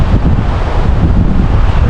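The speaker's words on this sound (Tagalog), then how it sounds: "Sarap ng hangin dito." Steady, loud wind buffets the microphone at a breezy scenic outdoor spot near a waterfall and pine trees in Ilocos Norte, a constant low rushing roar with no talk.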